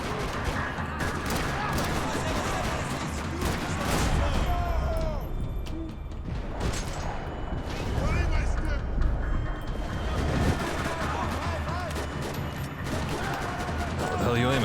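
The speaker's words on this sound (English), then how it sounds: "Another parking lot rattling with gunfire." Rapid bursts of gunfire crackle continuously in a parking lot in Max Payne 3, amid a dense, noisy backdrop, with repeated volleys and scattered shots echoing throughout.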